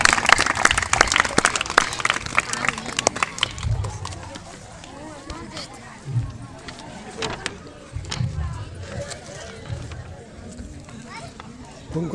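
Loud applause from an audience at a Marar community award ceremony, dense clapping in the first few seconds that thins and fades while voices talk over it.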